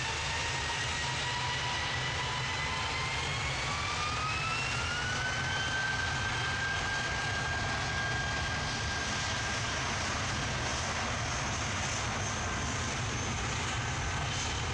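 A jet airliner taking off from runway 23 left at Manchester Airport, a loud continuous engine roar with a rising whine that climbs in pitch then holds steady, heard from a distance for the full length.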